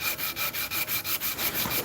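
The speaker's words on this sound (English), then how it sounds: "hopefully when I'm done with this sanding pass" A knife gets a hand sanding pass, the abrasive scraping back and forth in quick, regular strokes, close up and steady with no talking.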